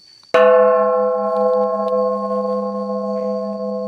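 A temple bell hanging inside a cave is struck once, a loud sharp hit that leaves a rich, sustained ringing tone slowly decaying, with faint background noise underneath.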